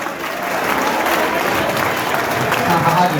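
Loud, sustained audience applause at a coaching-class gathering honouring a selected student, a dense, steady roar of many hands clapping close by, with crowd noise mixed in.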